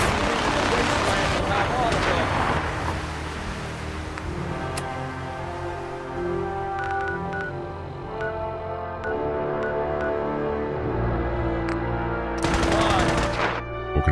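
Rapid bursts of automatic gunfire and single shots in the video game Fallout 4, loud and sustained across the clip with a heavy final burst, while someone talks over the shooting.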